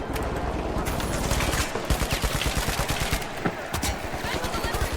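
Gunfire in the shooter game The Finals rattles in rapid automatic bursts, loud and close, with dense crackling volleys running continuously and a rhythmic, pulsing chain of shots in the second half.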